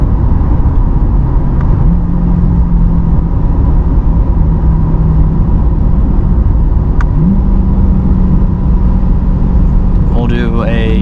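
Engine of a 2020 Chevrolet Corvette C8 Z51 pulling hard from inside the cabin: a loud, steady drone that jumps up in pitch partway through as the car accelerates down a short straight.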